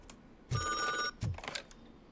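Telephone ringing in the video game RoboCop: Rogue City, two bursts of ringing a short pause apart, close and clear with no talk over it.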